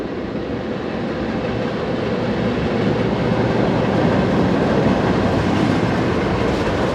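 A Class 923 shunting tractor rolls past hauling a rake of hopper wagons, a steady loud rumble with rhythmic wheel clatter that holds close throughout, with no voices.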